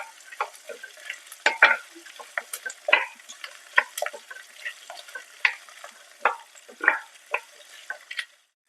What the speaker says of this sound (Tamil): வெங்காயமும் பூண்டும் எண்ணெயிலே நல்லா வதங்கணும்.